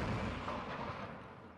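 A cannon fires in a Mount & Blade: Warband line battle (North and South mod), giving a single heavy boom whose rumble fades over about a second.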